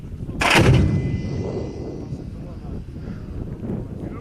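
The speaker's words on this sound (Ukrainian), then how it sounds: "Так, Постріл!" A single heavy artillery shot booms loudly, then rumbles and fades into steady windy background noise.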